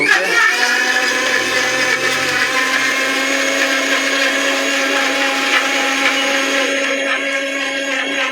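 A 1200 W blender grinds ginger and garlic with a loud, continuous high-pitched motor whine that stays steady throughout.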